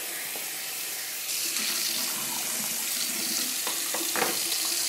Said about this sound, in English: I will rinse out the bottom of my palette